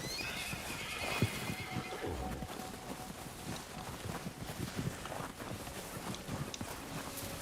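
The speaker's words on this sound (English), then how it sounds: "He's a pretty horse." A horse in Red Dead Redemption 2 snorting and whinnying while walking, with soft hoof clops over ambient outdoor game sound, fairly close and moderately quiet.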